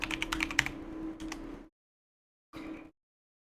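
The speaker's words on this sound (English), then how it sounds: "You guys can hear my clicky clack." A clicky computer keyboard gets a quick burst of close keystrokes, a brief pause, then a few more clacks.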